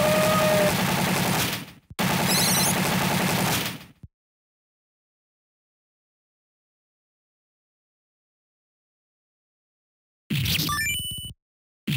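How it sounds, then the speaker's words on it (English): Heavy machine gun fire in the Neo Geo CD version of the arcade game Metal Slug 2 comes as loud, rapid bursts of about two seconds each, split by a long stretch of silence before another short burst. "Heavy machine gun!"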